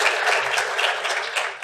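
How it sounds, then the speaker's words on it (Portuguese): An audience at a technology conference panel applauds steadily, a dense wash of many hands clapping, loud and sustained without pause. "uma salva de palmas, por favor, para os parceiros tecnológicos"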